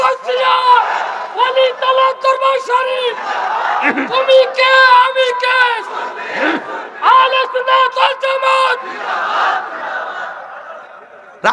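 A large outdoor crowd at a religious gathering on a college field chants Nara-e-Takbir in loud, repeated unison shouts, with a lead voice calling between the responses.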